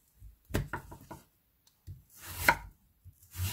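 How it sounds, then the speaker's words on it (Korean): A knife slices radish thinly on a chopping board, giving a quick run of sharp close chops, a pause, then a few more cuts. "무부터 썰도록 하겠습니다."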